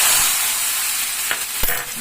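A hot tempering sizzles steadily and loudly as it is added to horse gram soup (ulavacharu), with a couple of brief clatters of the pan or spoon near the end.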